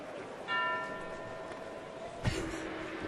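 A bell at a spring training baseball game rings out in a few clear metallic strikes with a lingering tone, heard over a low crowd murmur, followed by a dull thud.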